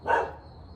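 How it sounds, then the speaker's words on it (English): A single short dog bark, fairly close and moderately loud, fading quickly into quiet background. "I'm accepting that my dog is barking."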